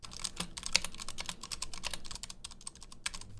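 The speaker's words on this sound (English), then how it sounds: "let's hear what the Ducky 1 Mini sounds like first" Rapid clacky typing on a Ducky One Mini mechanical keyboard, crisp key strikes in an uneven rhythm, close and fairly quiet, with no talking.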